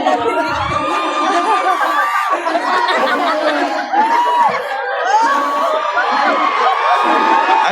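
Lively audience cheering and whooping with laughter and children's shouts, loud and close, a sustained crowd din with overlapping voices.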